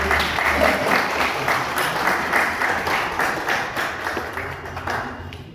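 An audience at a lecture claps steadily for several seconds, the applause loud at first and gradually thinning out.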